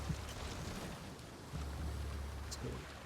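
Blustery wind at sea in the Assassin's Creed Shadows video game, a steady low rumbling gust with no break, swelling slightly stronger around halfway through.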